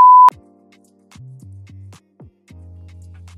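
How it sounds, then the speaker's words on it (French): A mobile phone beeps in another room with a short, sharp single tone, followed by a series of lower, sustained buzzing tones that start and stop with brief gaps. Nobody speaks. "Oui, c'est mon téléphone qui bip, mais comme il est dans le salon,"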